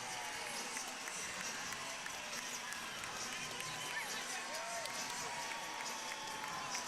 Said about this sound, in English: Listen to this crowd embrace this team.